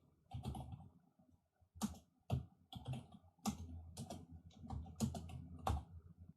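Computer keyboard typing in quick, irregular bursts of clicking keystrokes separated by brief pauses, close and fairly quiet, with no voices.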